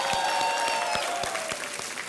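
A studio audience on the quiz show Kaun Banega Crore Pati gives warm applause to welcome guests, a steady wash of clapping at moderate loudness with no talk over it.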